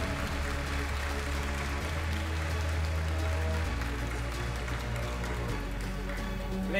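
Sustained, dense applause from a pageant audience for the top six finalists at a global Chinese beauty pageant final, holding steady throughout over a low musical backdrop.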